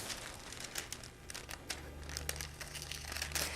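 Scissors cutting through a paper pant pattern, close and quiet, with a run of crisp snips and paper rustles and no voices.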